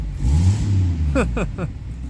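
A 1982 Ford Granada engine idles rough with the choke still on, a low, uneven, loping rumble. Someone talks briefly over it near the end.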